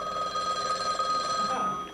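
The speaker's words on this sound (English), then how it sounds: "Oh, that's the phone." An old studio telephone rings with a steady electric bell tone, continuous and moderately loud through the clip, with no talking over it.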